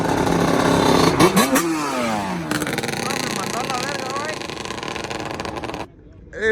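A Yamaha Banshee motorcycle engine runs and revs nearby, its buzzing two-stroke tone rising and falling under loud overlapping voices before cutting out near the end.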